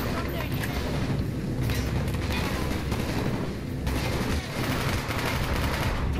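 Sustained gunfire in the Call of Duty: Black Ops video game, dense rapid shots and battle noise running continuously at steady loudness throughout.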